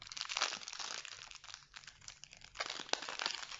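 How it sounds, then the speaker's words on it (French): Crinkly tearing and crumpling as a tear filament is pulled to open a cardboard box, close and fairly quiet, in continuous rustling bursts with a sharp snap near the end. "Donc vous avez un filament qui vous permet de l'ouvrir facilement."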